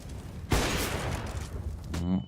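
Sudden burst of gunfire in a tactical shooter esports match, a sharp onset followed by a dense, sustained crackling roar lasting over a second before it cuts off.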